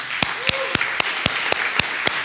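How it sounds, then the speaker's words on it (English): A workshop audience at the TYPO3 Developer Days 2016 applauds, with a steady patter of hands and sharper individual claps standing out at regular intervals, fairly close and moderately loud. "So a big applause to our two wizards."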